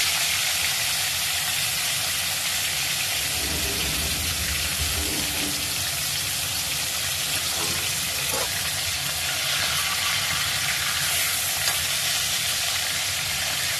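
Fish frying lightly in oil, a steady close sizzle and crackle with brief stirring or turning noises partway through, and little talk.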